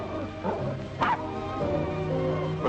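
A dog in the 1950 film Johnny One Eye barks in short yips and whimpers, with one sharper bark standing out mid-clip over a steady background of film soundtrack hum.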